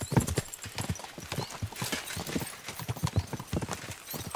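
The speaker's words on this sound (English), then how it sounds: "We should spur the horses on." Horses gallop in the medieval video game Kingdom Come: Deliverance 2, with dense, rapid hoof clip-clops pounding steadily throughout at a moderate level and no talk.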